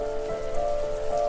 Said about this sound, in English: The rain cascaded onto the jade valley where the entrance to the tree was